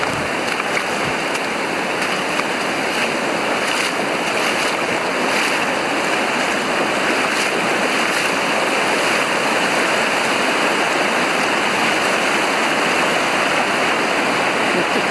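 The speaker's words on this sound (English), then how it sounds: "So we'll have a look at the White River here." The White River, on a backcountry route toward Mount Davie, rushes past in a loud, unbroken roar of flowing water that holds steady throughout, close by and with no voices over it.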